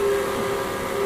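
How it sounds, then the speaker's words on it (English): A steam locomotive whistle sounds as one long, low, steady tone, loud and unbroken for its whole length. "Then there was one long and low whistle."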